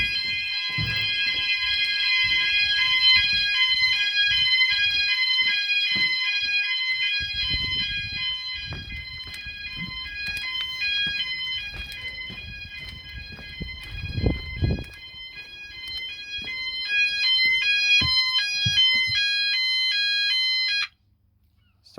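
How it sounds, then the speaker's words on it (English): An E.M.S. FirePoint 5004 fire alarm system and a standalone smoke detector sound together in a loud, continuous electronic pulsing tone for about twenty seconds before cutting off, with handling noises and knocks underneath. "it's triggered the house ones. Actually, it's triggered that. It's triggered the standalone detector as well."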